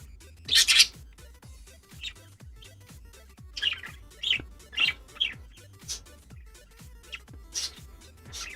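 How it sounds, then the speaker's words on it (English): Indoor pet birds chirping: short, bright tweets repeat every second or so in a quiet room, moderately close and fairly soft, with no one talking over them. "And yes, I do have birds."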